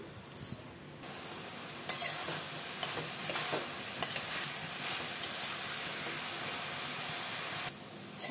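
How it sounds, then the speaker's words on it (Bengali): Banana flower curry with fried potatoes is stirred in a pan, a continuous sizzle and hiss with scraping spoon strokes against the metal, fairly quiet with no talking. "ভালো করে নাড়াচাড়া করে নিতে হবে।"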